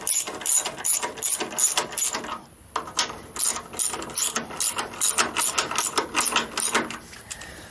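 A hand ratchet snugs up suspension bolts on a 1956 VW Beetle, clicking in quick, steady close-up strokes, briefly pausing midway and then resuming with no talk.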